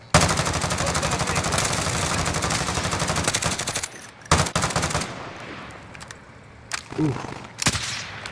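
Rapid automatic gunfire fills Call of Duty: Modern Warfare, a loud continuous burst that breaks off into a few shorter shots and scattered cracks, with a player's brief exclamation.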